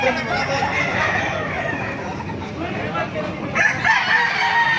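Several roosters crow over a busy farmyard background at a chicken market in Baliuag, Bulacan, their calls overlapping at moderate distance, with clucking fowl and a voice faintly in the mix.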